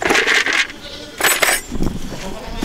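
A Kiko goat bleats loudly in several separate cries, close by in a barn area, with a short pause between each call.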